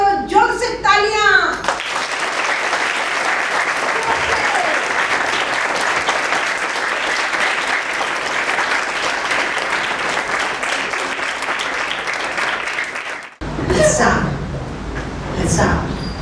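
An audience at a children's values camp claps loudly in a dense, sustained burst lasting about twelve seconds. A voice speaks briefly before the applause and again after it stops.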